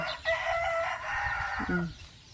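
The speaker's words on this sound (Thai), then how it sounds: "มีทั้งเป็ดมีทั้งไก่" A rooster on a rural farm beside fields, where ducks and chickens are kept, gives one loud, drawn-out crow close by, ending in a lower trailing note.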